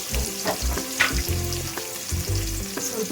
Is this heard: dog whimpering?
no